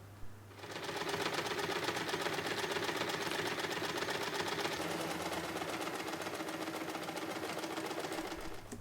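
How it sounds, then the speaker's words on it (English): Sewing machine running steadily along the edges of a fabric basket's lining and main fabric, a continuous close whirring stitch held for several seconds with no pause or voices. "Then sew along all 4 sides."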